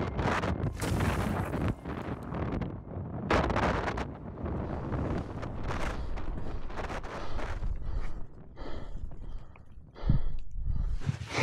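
Strong wind on a mountain buffets the microphone in heavy roaring gusts, surging and dropping repeatedly with brief calmer gaps, loud and close.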